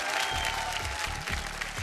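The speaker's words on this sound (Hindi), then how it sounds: "जोरदार तालियों से स्वागत कीजिए प्रियंका जी का" A studio audience on a Bhojpuri TV reality show applauds steadily for a contestant's welcome, dense, sustained clapping heard up close, with music underneath.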